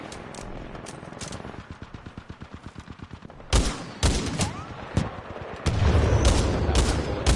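Gunfire in the shooter game Titanfall 2: a rapid, evenly spaced burst of automatic shots, followed by several loud, heavy single booms and a sustained blast of fire, all close and without talk.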